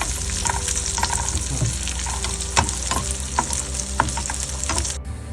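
Raisins frying in hot ghee for a homemade chicken biryani, a steady close sizzle with scattered pops and stirring clicks throughout, no talk.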